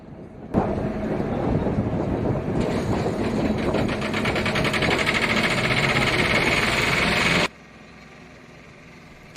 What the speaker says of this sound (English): the power pack can be started